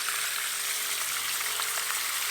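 Garden hose water gently washing gold material down into a pan, a steady hissing, splashing spray that runs continuously at close range with no voices.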